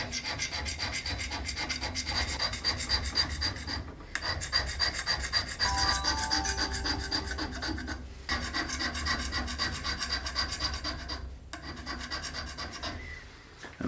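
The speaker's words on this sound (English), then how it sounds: "Just hitting the whole surface with the scraper, removing a little bit of material." A hand scraper working across a flat metal surface, rapid rhythmic rasping strokes in long runs broken by brief pauses, close and fairly loud.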